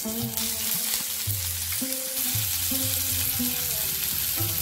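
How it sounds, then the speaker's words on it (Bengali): Bay leaves, a dried chilli, whole garam masala and cumin seeds sizzling in hot oil for tempering, a dense, steady crackling hiss heard up close with faint low rumbling beneath. "একটু তেল দেব, ফোড়নে দেব দুটো তেজপাতা, একটা শুকনো লঙ্কা, গোটা গরম মশলা, সাদা জিরে"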